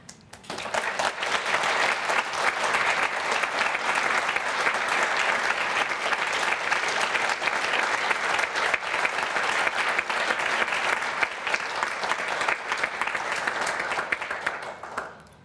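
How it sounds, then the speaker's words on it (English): Sustained audience applause at a National Press Club address, a dense even wash of clapping from a large crowd lasting about fifteen seconds before tapering off at the end. "Thank you for the applause there"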